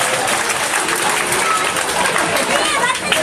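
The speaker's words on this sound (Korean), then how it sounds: "딩동댕 박수" A church congregation breaks into applause during a children's Bible quiz at a sermon, a dense, steady clapping that fills the room for a few seconds with murmuring voices mixed in.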